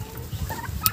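Brief, soft clucking and chirps from chickens close by in a greenhouse, with a faint high peep near the end.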